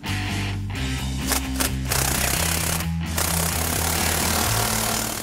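A power impact tool tightens exhaust clamps on a 1999 Mustang Borla stainless cat-back system, a loud, close, continuous rattling hammer with shifting pitch and brief pauses, with no talking.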